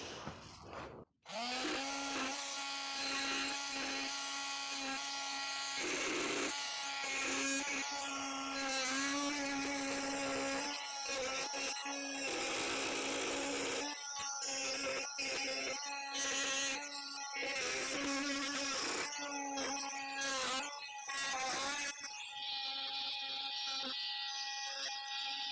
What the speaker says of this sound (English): So I'm going to start by cutting with my oscillating tool and really going carefully around